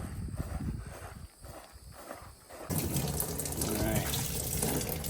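Well water runs into a tub for an axolotl bath; the splashing starts moderately and then becomes a louder, steady rushing pour partway through.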